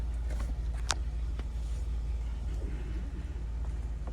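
A Jeep Wrangler JK engine idles with a steady, close low rumble, with a few faint clicks and knocks on top.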